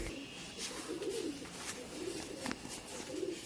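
Several pigeons at a loft in Allahabad give low, throaty coos in loose overlapping bursts, close by, over a constant broadband hiss with no voices.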